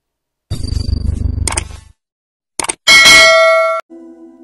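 Notification bell sound effect: a couple of short clicks and taps, then a bright, sustained ringing ding that fades into a soft lower chime.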